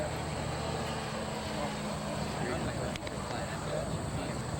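A model airplane's steady, high-pitched motor whine drones continuously, fairly loud and constant throughout, with faint background noise.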